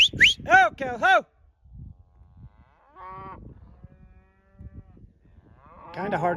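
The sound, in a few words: cattle mooing while being gathered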